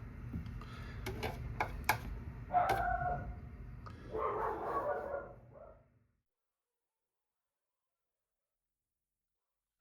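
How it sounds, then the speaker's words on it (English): Dogs indoors bark at a window, a burst of sharp barks and yelps over the first six seconds before everything falls silent. "the dogs must have seen a rabbit looking out the window"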